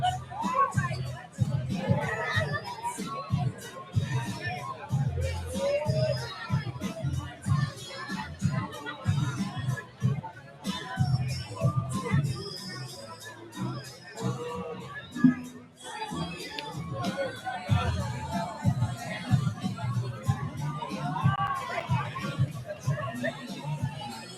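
A boxing arena crowd after a fight between Anthony Torres and Gordon Richards, with steady close chatter and crowd hubbub running throughout and bursts of clapping mixed in.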